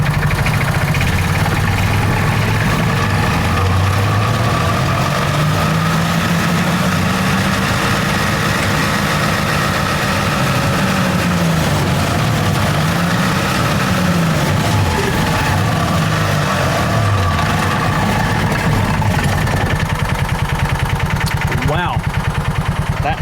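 A John Deere Gator 4x2 utility vehicle with hard-start and idle problems runs loud and close, its engine rising and falling in pitch through repeated revs to high speed, rough and vibrating throughout.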